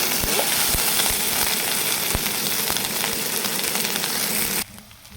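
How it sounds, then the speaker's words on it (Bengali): Bay leaves land in hot oil with ginger-garlic paste for a raw jackfruit curry, giving a loud, continuous sizzle with scattered pops that cuts off abruptly near the end. "এবারে আমি দিচ্ছি তেজপাতা"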